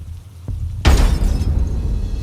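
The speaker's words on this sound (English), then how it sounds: "the creature now jumped onto the windshield, cracking a portion of the glass" A car windshield cracks in one sudden loud burst as something heavy lands on it, followed by a rough scattering tail of breaking glass in the dark.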